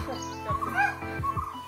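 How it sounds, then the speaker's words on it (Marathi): Birds call in forest on the Khireshwar trail to Harishchandragad, a few short chirps and whistled notes rising over a quiet steady background. "पक्ष्यांचा आवाज येतो."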